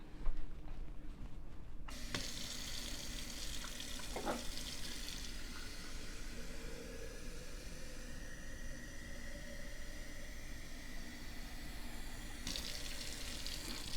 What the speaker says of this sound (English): So now let's get some water.